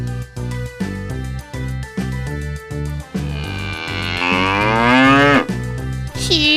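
A cow moos loudly and close, one long drawn-out call rising and bending in pitch, played over a repeating rhythmic music backing in a children's folk tale.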